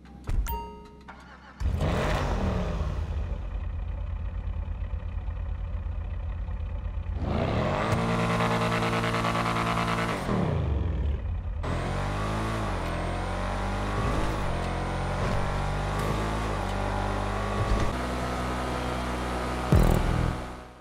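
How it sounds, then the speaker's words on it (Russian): Benefactor Schafter V12 sedan engine in GTA Online, loud and close, starting with a burst, then long sustained revs climbing and dropping in pitch through gear changes, with a short pause between pulls and a sharp rise near the end. "Улетности в этой тачке добавляет звук работы ее двигателя."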